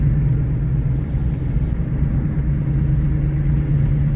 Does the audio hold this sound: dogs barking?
no